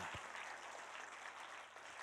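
Congregation in a church service clapping together, a dense, even patter of hands sustained for the whole moment, faint and somewhat distant, with a single low thump near the start.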